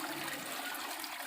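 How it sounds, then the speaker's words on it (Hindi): Water gushes under pressure from the pipe of a submersible motor pump, muddy with soil and flowing up to a tank; a steady broadband rush and splash, close and continuous throughout. "ये देखिए, तो देखिए कितना प्रेशर के साथ पानी आ गया"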